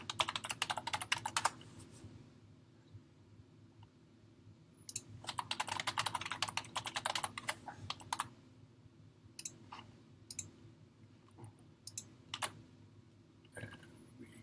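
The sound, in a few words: typing on a computer keyboard to enter an email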